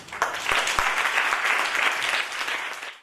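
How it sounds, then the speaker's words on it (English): An audience at a public speaking competition grand finale claps to welcome a speaker to the stage, a short burst of dense, even applause that fades out after about three seconds. "give a big round of applause to welcome the first speaker on the stage."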